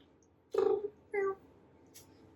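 A cat meows twice at close range, loud and clear, a longer call followed by a shorter one, with a faint high squeak just after and quiet surroundings.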